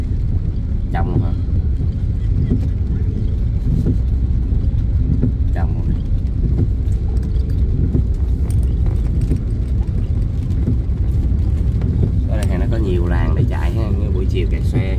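A car drives along a road on the route from Highway 50 in Binh Chanh toward District 7, Saigon. Engine and road rumble stay steady and fairly loud beneath intermittent talking inside the vehicle.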